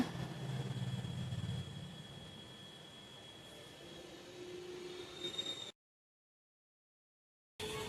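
A small children's toy train in a park in Chennai rumbles past with a steady rolling clatter and a faint high whine, fading down before the sound cuts out briefly near the end.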